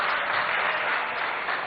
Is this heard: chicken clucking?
no